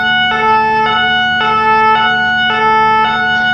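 Loud two-tone French emergency vehicle siren alternating high and low in a steady repeating cycle, close by, with a faint engine rumble underneath.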